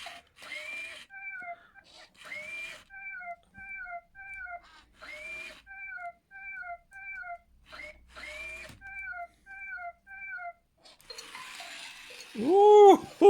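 A Power Kitty Jr remote control robot kitten toy repeats a synthetic electronic meow sequence about five times in steady cycles, each a rising tone followed by a quick trill of short chirps, close and clear, ending in a louder warbling burst.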